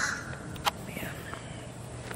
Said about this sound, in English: It's a crow right there.